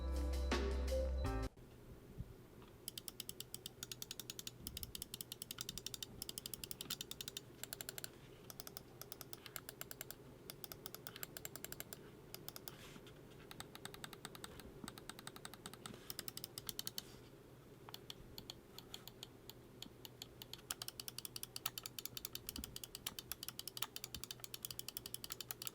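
Rapid, dense clicking from the optical switches of a Razer Viper Mini, a small 61 g budget mouse, sounding as a continuous run of crisp, close clicks with no talk.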